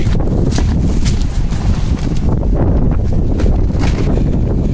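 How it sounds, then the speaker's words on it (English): Extreme wind blows across a backyard deck, with loud, constant buffeting and gusty roaring against the microphone and no pause in the blast. "this would be where the worst of the wind is, I'd assume, because it's higher up."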